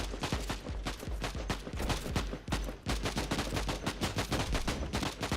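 Rapid shotgun blasts and gunfire from Warhammer 40K: Inquisitor - Martyr, a dense, loud barrage of booming shots with game combat noise filling the whole stretch.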